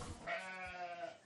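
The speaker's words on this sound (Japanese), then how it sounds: "お母さんにくっついて甘える子羊たち。" Lambs and ewes bleating together on a sheep farm in Naganuma, Hokkaido, during lambing season: one sustained, wavering bleat fills the whole moment, close and fairly loud, with no talking.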